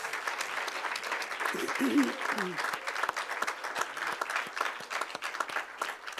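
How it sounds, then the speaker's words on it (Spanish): An audience at a Holy Week Seven Last Words service applauds the speakers, many individual claps crackling close and sharp over a steady clapping bed, with a brief voice rising midway. "regálenle un fuerte aplauso a estos hermanos"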